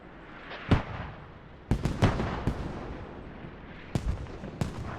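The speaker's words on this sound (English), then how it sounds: "Artillery to make sure, or mortar barrage rather, to make sure no one can get back out." A mortar barrage pounds an urban battlefield in a shooter game, sharp booming impacts arriving in irregular clusters, some near and loud, others duller and farther off, over a low rumbling background.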